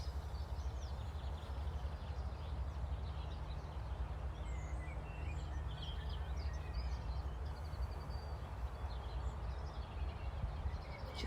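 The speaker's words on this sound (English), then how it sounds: "Just listening to the birds." Birds sing outdoors in a calm open setting, with scattered faint chirps and short calls spread across the clip over a steady, low background wash.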